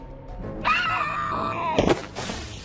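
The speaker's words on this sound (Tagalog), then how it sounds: "Sumisigaw habang tila nasusunog ang balat nito." A woman lets out a loud, prolonged anguished scream close by, then a sharp burst of harsh noise as it breaks off.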